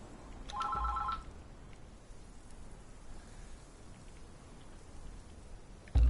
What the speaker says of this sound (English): I'll let the phone ring.